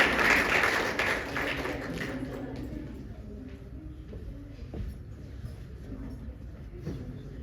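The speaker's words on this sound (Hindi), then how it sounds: "मैं चाहूंगा जोरदार तालियों से स्वागत करें" Clapping from an audience welcoming a poet to the stage at a poetry recital fades from a loud start into a thinner, scattered patter, with faint crowd murmur underneath.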